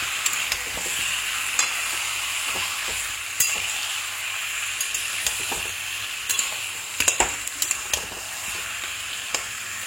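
Cumin paste and chopped tomato stir-frying in a pan for Bengali chicken curry, a continuous close sizzle broken by sharp scrapes and clacks of the spatula, no talk.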